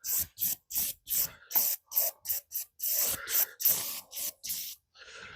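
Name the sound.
silicone spray aerosol being sprayed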